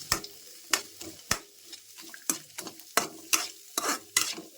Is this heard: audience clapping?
no